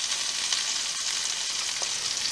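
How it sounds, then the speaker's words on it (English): Onions frying in a pan with pork drippings give a steady, close, even sizzle with faint crackles throughout, and no one talks. "We'll be cooking the onions in this same pan, and a little bit of the drippings from the pork will help flavor up those onions."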